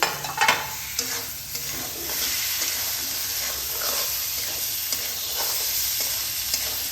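Chopped tomato being stirred into a mustard masala in a pan for a spicy mourala fish curry, a steady sizzle of frying under continuous scraping strokes, close and moderately loud, with no talking.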